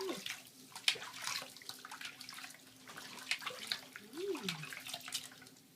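Soapy bathwater splashes and trickles as a dog gets its first bath, with quiet close-up sloshes and drips and a faint tonal sound rising and falling near the end.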